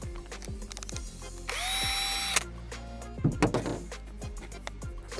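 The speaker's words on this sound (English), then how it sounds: "I want to use the little rubber wheel from Temu and a little drill" A small handheld drill spins a rubber eraser wheel against a car surface to strip off sticker residue, giving a loud high whirring burst of about a second with motor whine and scraping, set among quieter clicks and handling noises.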